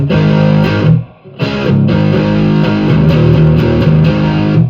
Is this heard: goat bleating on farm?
no